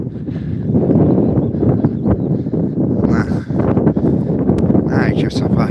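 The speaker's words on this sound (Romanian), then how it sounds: "M-a început să bate vântul mai tare" Strong wind buffets and roars against the microphone in steady gusts on a beach, loud and close, with a rustling texture throughout.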